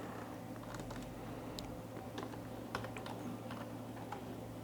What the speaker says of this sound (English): I am first of all typing some text here using the text tool